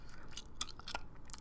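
Gum chewed close to the microphone gives a few soft, moist clicks and smacks in an irregular rhythm over near silence.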